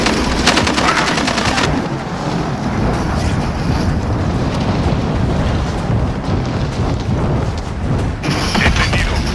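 Gunfire in the video game Call of Duty Warzone, loud continuous rattling bursts over a heavy rumble that fill the whole stretch with no pause.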